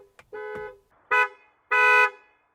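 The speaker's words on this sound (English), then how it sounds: "This is what the horn sounds like" Horn of a 2024 GWM Cannon XSR ute: three separate honks, a short tap followed by two sharper, longer blasts, loud and close with brief gaps between them.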